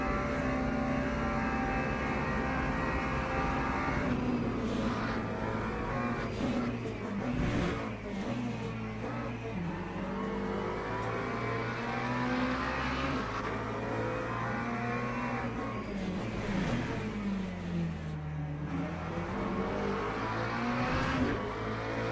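A race car engine in Le Mans Ultimate drones continuously, the car slowed on the straights after a second collision, its pitch rising and falling through gear changes, loud and steady throughout.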